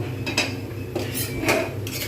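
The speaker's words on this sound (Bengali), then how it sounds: "ঢাকনাটা খুলব" A metal lid comes off a cooking pot where bottle gourd is being simmered for a fish-head curry, giving several close clinks and scrapes of metal against the pot rim over a steady kitchen hiss, with no talking.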